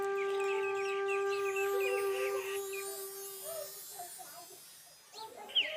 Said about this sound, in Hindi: तो आपको ये मुर्गी भी दिखाते हैं।